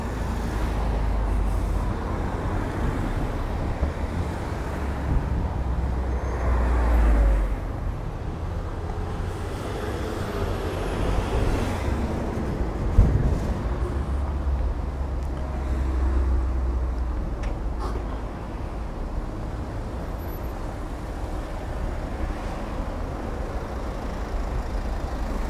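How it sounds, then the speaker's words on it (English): Street traffic builds up in the Somerset village of Ilchester, a continuous rumble of cars and heavier vehicles idling and creeping past, with a brief hiss of an air brake partway through and no voices. "Cars, one car stops and then there's a big build-up of cars."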